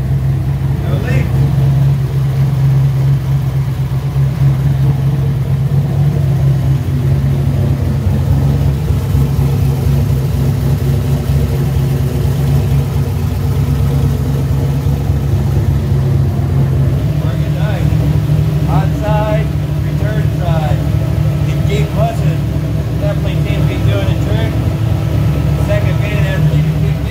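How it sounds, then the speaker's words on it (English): A car engine idles steadily just after an oil cooler install with AN hoses and fittings, a close, even mid-low drone that holds throughout while people talk over it. "That shit's idling like a Jeep."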